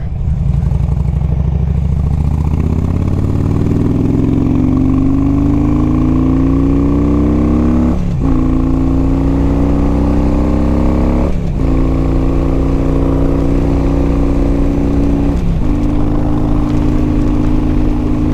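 A motorcycle with a 6-speed transmission rides on the highway, its engine loud and steady as it accelerates, the pitch climbing through each gear and dropping briefly at three upshifts.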